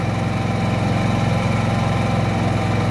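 A Senci SC 9000i inverter generator runs on its first start, a steady close mechanical hum with an even rapid pulsing throb and no pauses.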